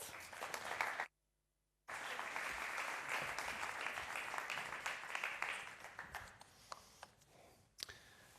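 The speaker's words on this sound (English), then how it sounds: "Big applause." Audience applause at a university presentation of a higher education world report, a steady wash of many hands clapping that breaks off briefly near the start, then resumes and thins to scattered claps before stopping.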